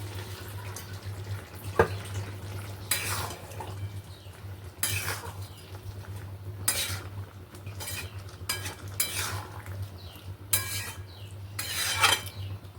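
Fried fish roe curry is stirred in a pan, with scraping utensil strokes in regular bursts every second or so over a steady low hum. There is no talk.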